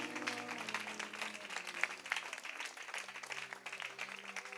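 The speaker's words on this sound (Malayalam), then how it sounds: "കൈയടിച്ച് ദൈവത്തിന്റെ സ്തോത്രം പറ." A church congregation clapping their hands in praise, a steady, dense patter of many hands, moderately loud and continuous throughout, with music tones sounding underneath.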